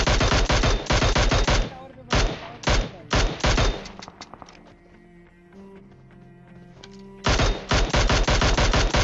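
Automatic gunfire in the mobile battle royale PUBG Mobile, played on an iPad: loud, rapid bursts with short pauses between them, a quieter stretch in the middle, then another fast volley near the end.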